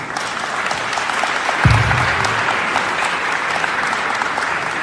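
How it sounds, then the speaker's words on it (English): An audience at a World AIDS Day commemoration in Monrovia, Liberia, applauds continuously, a dense wash of clapping with a brief low thump partway through. "Keep clapping, keep clapping, keep clapping."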